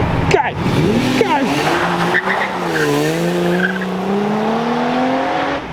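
Classic Aston Martin cars, a pair in brown, accelerate hard away from Brooklands with squealing tyres and rising engine notes, loud and close, while people talk and cheer over the noise.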